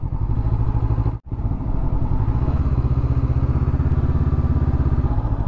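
A Honda CB500X motorcycle rides along a coastal road near Nang Rong beach, its engine droning loud and steady throughout with one brief dropout early on.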